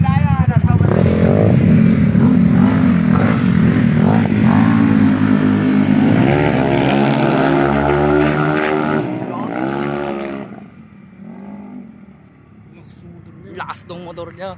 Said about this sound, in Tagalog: Lakas tong motor niya.